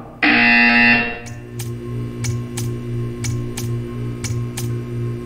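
A loud, harsh electronic buzzer from Portal 2 blares for about a second, then cuts off, leaving a faint steady ticking in the background.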